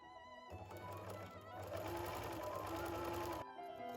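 A sewing machine joins the fly extension pieces of tailored women's trousers in one steady, close whirring run of stitching lasting about three seconds, with a quiet moment before and after.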